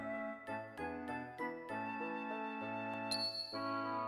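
Small bell jingling in the video game Xenogears, bright chiming tones ringing out in a steady series of struck notes, clear and alone without talk.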